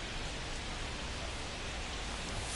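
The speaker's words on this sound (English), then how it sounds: "the field's not going to be able to hold up if the rain gets any worse than this" Steady rain pouring onto a baseball field in MLB The Show 2025, a continuous broadband hiss with no voices heard.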